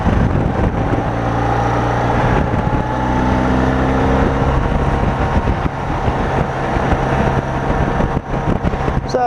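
An old motorcycle riding along a road, a continuous engine drone with steady low harmonics buffeted by wind noise, close and sustained throughout without a break.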